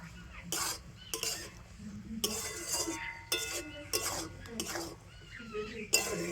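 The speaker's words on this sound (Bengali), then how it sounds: "সব কিছু দিয়ে আবার একটু ভালো করে মিশিয়ে নেব" Konika bhog rice being stirred with ghee in a metal pot, a spoon scraping and clinking against the sides in irregular bursts, close and moderately loud, with faint cooking noise between strokes.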